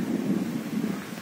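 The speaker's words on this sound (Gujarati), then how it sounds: "પવન હે ને આજ બહુ મસ્ત નીકળો હે ને" Wind gusting outdoors at a farm field, a steady broadband rush buffeting the microphone throughout the short stretch, with no voices.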